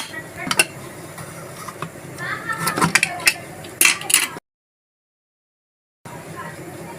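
A pressure cooker lid being opened after the pressure is fully released while cooking chicken curry, giving several metallic clinks and scrapes of the lid and pot, then a short silence, with a voice talking over part of it.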